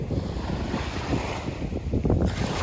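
Cold Pacific Ocean waves wash onto the shore at Potrero, with heavy wind buffeting the microphone and a louder surge of surf breaking near the end.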